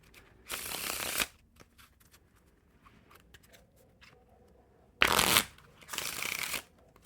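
Two bursts of shuffling a Dragonfly playing card deck, a riffle then a pause, then two more quick riffles close by, crisp and fairly loud with quiet in between.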